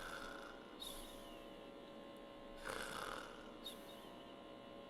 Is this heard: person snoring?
yes